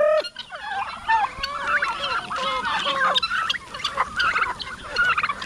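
A flock of farmyard chickens clucks and calls nonstop at close range, their busy overlapping cries filling the whole stretch with no voices.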